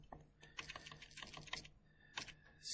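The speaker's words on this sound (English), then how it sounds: "Now I got to type out this whole thing." Typing on a computer keyboard, quiet bursts of quick clicks with short pauses, close and faint.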